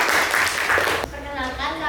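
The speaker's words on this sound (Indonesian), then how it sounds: "Tepuk tangan buat kelompok 4." A classroom group gives brief clapping for a student group, dense for about a second before it drops off and a voice begins speaking.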